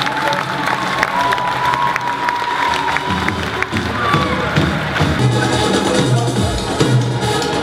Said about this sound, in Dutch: Applaus voor deze twee verenigingen.